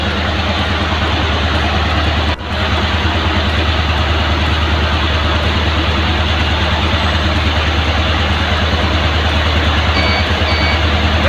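Car engine running steadily at idle during a sensor and actuator diagnosis, a constant loud low hum with a brief dropout near the start, no speech.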